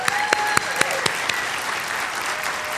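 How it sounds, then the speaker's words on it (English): Conference audience applauds an award recipient at an opening welcome and awards session, sustained clapping with a few sharper individual claps standing out near the start and a faint voice briefly audible under it. "I did want to ask you to give him a round of applause"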